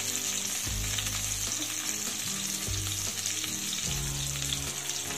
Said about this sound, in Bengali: এবার গ্যাসের হিট মিডিয়ামে রেখে নেড়ে চেড়ে বেগুনগুলোকে লাল করে ভেজে নিতে হবে।